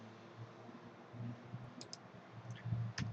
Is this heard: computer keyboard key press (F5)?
yes